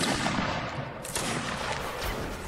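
Musket gunfire in the Napoleonic Wars battle game Mount and Blade, set at the Alamo, as a dense, continuous crackle of many shots mixed together, with a sharper report just past the midpoint.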